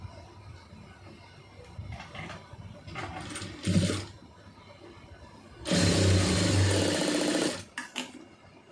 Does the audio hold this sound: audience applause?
no